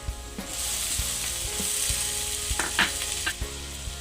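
Chopped tomatoes hit lightly browned, softened onions in a hot pan for egg keema masala, giving a steady, close broadband sizzle with scattered clicks and scrapes of stirring, no voices.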